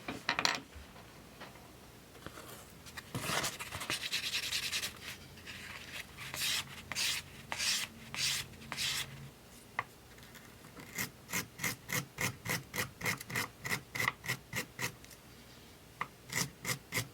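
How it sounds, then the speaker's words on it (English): Hand sanding of a conical bolo tip: soft, uneven rasping at first, then a run of quick, regular back-and-forth strokes, close and fairly quiet, with no speech. "now I'm just going to hand sand the rest"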